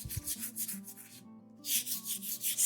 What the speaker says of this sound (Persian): برای سنباده کار من الان سنبادم 220